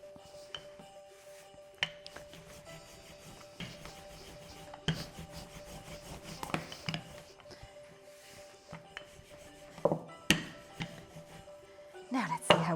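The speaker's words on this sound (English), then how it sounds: "So our aim now is to roll out the pastry to get a nice rectangle as best I can" Rolling pin working pastry into a rectangle on a board, with soft rubbing, light knocks and scattered taps, close and moderately quiet, with a low tonal hum underneath.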